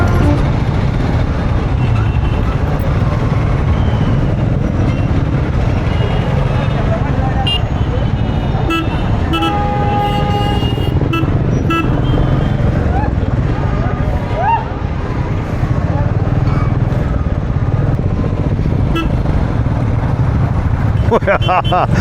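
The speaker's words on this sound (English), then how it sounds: "We're actually on the wrong side of a roundabout with oncoming traffic and buses" City traffic and buses crowd a roundabout around a Royal Enfield Classic 350 motorcycle, with a steady loud roar of engines and road noise and a few short horn toots cutting through midway.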